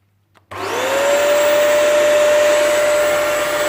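A Bissell CrossWave floor cleaner switches on in vacuum mode, spinning up within half a second into a loud, steady motor whine and airflow rush that runs on with no voices.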